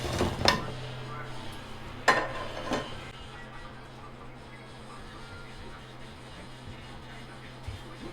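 Pitha dumplings are dropped into reduced sweetened milk in a cooking pot, making a few light clinks and knocks of utensil against metal over a low, steady kitchen hum.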